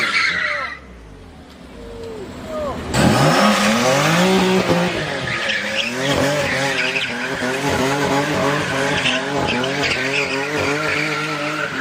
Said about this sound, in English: Now let's see what happens when you put your foot down and turn off traction control.